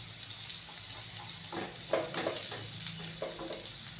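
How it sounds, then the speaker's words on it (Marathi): Okra (bhindi) pieces, stuffed for a Maharashtrian bharli bhendi, frying gently in a pan over low heat, giving a soft steady sizzle with a few louder scraping stirs as pieces are turned one by one. "आता आपण ही भेंडी हळूहळू ही एक एक करून आपण परतून घेऊया"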